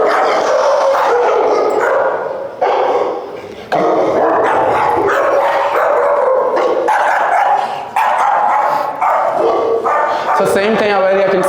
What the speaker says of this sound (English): The dog is fearful, so this type of reaction here is fearful of other dogs.